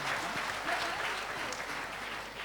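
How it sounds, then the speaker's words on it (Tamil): Audience at a Tamil music concert claps in sustained, dense applause, loud and continuous throughout with no talking over it. "அவருக்கு ஒரு முறை நம்ம கைத்தட்டி இந்த பாடலுக்கு நன்றி சொல்லிடுவோம்."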